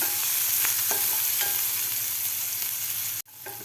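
Peas sizzle with a pinch of turmeric in a hot pan, steady frying hiss broken by repeated scraping stir strokes, loud and close, until the sound cuts off abruptly near the end.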